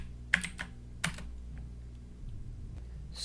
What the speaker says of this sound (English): Now go ahead and type in git commit.